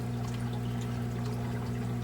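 Water flows steadily through the chambers of an aquarium sump wet/dry filter, running over a sheet of acrylic toward a Rio 32 HF pump chamber, with a continuous low hum and trickling wash.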